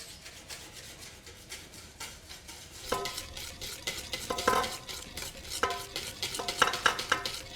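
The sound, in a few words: whisking butter slowly into sabayon for hollandaise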